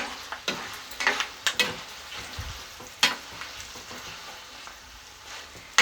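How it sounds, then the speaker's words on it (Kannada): Peanuts frying in a pan for puliyogare: a soft, steady sizzle with scattered sharp scraping and clinking stirring strokes against the pan, close and fairly quiet, no talk. "ಇದು ಕಡಲೆಕಾಯಿ ಬೀಜ ಒಂದು ಸ್ವಲ್ಪ ಬ್ರೌನಿಶ್ ಆಗಲಿ"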